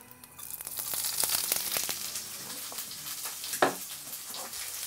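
Vegetables and bell peppers hit hot oil in a pan beside beef, giving a steady close sizzle with crackling pops and a brief louder burst, no talking.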